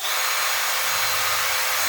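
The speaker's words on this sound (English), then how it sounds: "I'm just making holes, a couple of rivets to go in." A power drill bores holes for black aluminium rivets while a shower screen is installed, giving a steady, close, high-pitched whir that runs unbroken and alone.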